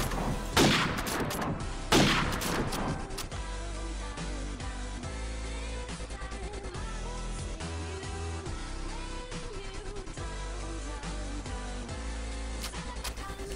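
Rapid bursts of gunfire from Call of Duty 4 ProMod on the Backlot map, with two loud shots up front followed by a steady stream of continuous shooting, gameplay noise and effects.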